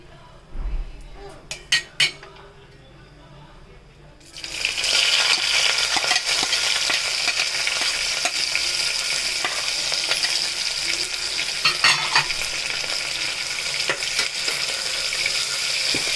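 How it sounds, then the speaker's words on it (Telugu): Sliced onions and green chillies hit hot oil for a home-made keema biryani: a few utensil clinks, then a sudden loud, continuous sizzle with occasional scraping from stirring. "మంచిగా గోల్డెన్ బ్రౌన్ వచ్చే వరకు మంచిగా దీన్ని కలుపుకోవాలి"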